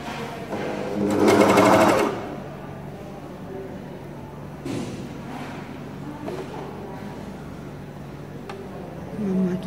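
Willpex WP550 four-thread coverstitch sewing machine running in a short fast burst of stitching, loud and close, followed by quieter handling noises and someone talking.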